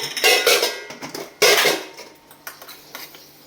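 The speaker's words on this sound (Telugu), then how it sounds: "ఇలా ప్యాన్ పెట్టుకొని 1 స్పూను జీలకర్ర, 1 స్పూను ధనియాలు ఇలా వేసుకుందామండి" Whole cumin and coriander seeds poured by the spoonful into a metal pan, rattling and scattering in a few crisp clattering bursts with softer pattering as they settle, close and fairly loud.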